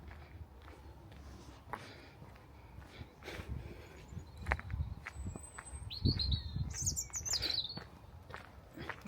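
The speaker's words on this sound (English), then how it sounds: "hear the birds." Faint, scattered bird chirps in an open outdoor setting near a railway in Saltney, UK, with a brief burst of higher twittering partway through over soft background noise.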